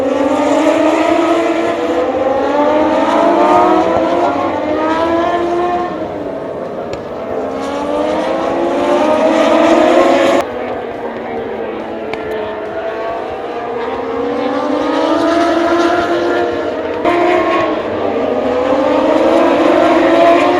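High-revving Moto2 racing motorcycles scream past one after another during a qualifying session, engines rising and falling in pitch as they accelerate and shift, loud and continuous.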